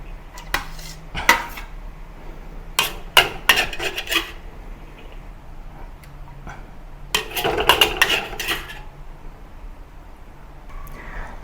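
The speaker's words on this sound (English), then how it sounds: "Let's remove the ingredients from the wok." Cooked spring roll filling is scooped out of a metal wok, with sharp clanks and scrapes of utensil on metal coming in irregular bursts between quiet pauses.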